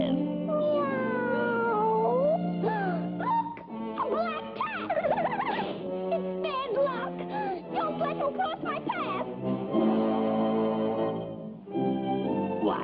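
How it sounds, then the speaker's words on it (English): A cartoon cat from a 1957 Popeye short meows repeatedly in long, warbling, sliding cries, loud and close, in a nearly continuous run with brief pauses between calls. "he's just a harmless cat which wants to make friends"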